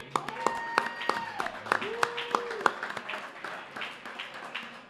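A small audience gives a round of applause for former basketball player Tony Bobbit on a Bearcat basketball podcast. The claps are scattered and distinct, with sustained tones and voices running underneath.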